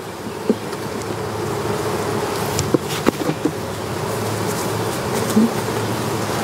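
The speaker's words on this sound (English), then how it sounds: "There's some nice extra bees." Bees buzz steadily and densely close by, a continuous droning hum with a few faint knocks and taps.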